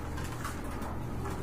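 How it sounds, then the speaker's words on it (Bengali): Muslin pigeons coo steadily and close by over a low, continuous murmur, with no voices. "মসলিন কবুতর গুলো"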